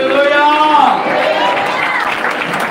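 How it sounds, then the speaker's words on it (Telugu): A church congregation claps loudly in unison, a steady dense patter of hands throughout, mixed with a preacher's voice and singing-like speech over it. "దేవుడు మనతో మాట్లాడేందుకు బిగ్గరగా చప్పట్లు కొట్టి ఒకసారి"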